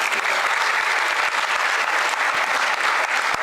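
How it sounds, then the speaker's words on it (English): A hall audience at the World Toilet Summit 2025 applauds an honoree at a felicitation, steady dense clapping, loud and sustained throughout with no talk over it. "so we can all have a round of applause for him"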